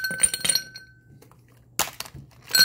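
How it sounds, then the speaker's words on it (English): Ice cubes clink and rattle into a cocktail shaker for a gin flip, a burst of glassy knocks at the start, a pause, then two more short bursts of clattering ice, close and fairly loud. "Ice is going to go in our Creme Vibrador."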